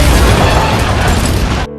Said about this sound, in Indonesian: tiba-tiba terjadi ledakan dari kelas sebelah